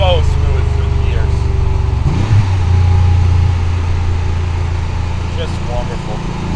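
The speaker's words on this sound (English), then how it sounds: "Even a second gear downshift, smooth as butter. It doesn't blur. So smooth through the gears." A 1991 Porsche 911 Carrera 2 Cabriolet engine drones loudly and steadily from close by, dipping briefly around a gear change before settling into an even, slightly lower hum as it pulls on.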